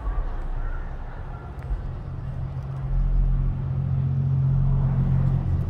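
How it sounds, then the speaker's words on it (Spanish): A car passes by outside a house as a low, steady road rumble that swells about halfway through and holds at a moderate level over a constant background noise. "ahí va pasando un carro."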